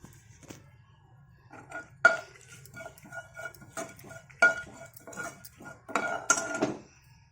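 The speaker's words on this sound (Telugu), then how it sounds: "నెయ్యి బాగా కరగంగానే జీలకర్ర, మిరపకాయ వేసుకొని అవి చిట్చిట్లాడంగానే" Cumin and chillies in melted ghee, with a spoon clinking and scraping against the pan and bright metallic taps coming in bursts; faint sizzling sits underneath.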